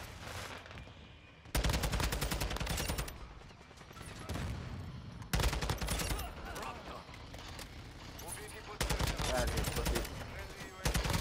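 Bursts of automatic gunfire in the shooter game Modern Warfare II, three loud sustained volleys separated by quieter stretches of background game sound, with a voice faintly under it.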